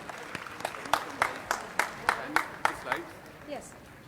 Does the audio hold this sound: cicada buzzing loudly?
no